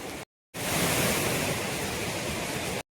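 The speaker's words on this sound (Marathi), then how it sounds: "किती भारी आमच्या नदीचा धबधबा आहे, बघू शकता तुम्ही" A river waterfall near a village in the rain roars with a loud, steady rush of water. The sound cuts out briefly near the start, then runs unbroken to the end.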